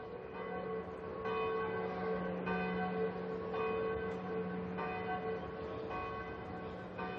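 Church bell of the Micalet, the octagonal bell tower of Valencia cathedral, tolling loud and sustained with rich ringing overtones, fresh strikes arriving about every second and a quarter, with no voices.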